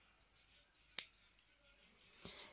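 Scissors snip through the end of a knitting yarn, one sharp close cut followed by a few faint clicks and a soft handling rustle in a quiet room.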